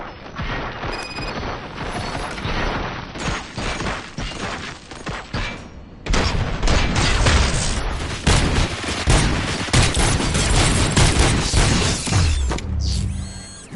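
Rapid, dense gunfire and mechanical weapon clatter roar continuously in Robocop: Rogue City, growing louder and fuller after a brief dip midway, loud and close throughout.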